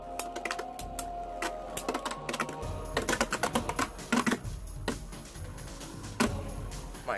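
Beyblade Burst spinning tops launched and clashing in a stadium, with rapid hard plastic clicks and rattling impacts in quick clusters, fairly close and without talk.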